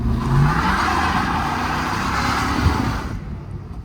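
A car with a built LS engine doing a burnout: a loud, sustained roar of engine and spinning tyre noise, heard close and alone, fading out abruptly near the end.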